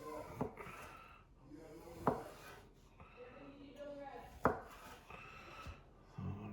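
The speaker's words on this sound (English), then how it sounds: "Just gonna slice these not super thin." A knife slices andouille chicken sausages on a cutting board, giving several sharp, separate chops at an uneven pace, close and moderately loud, with quiet kitchen handling between them.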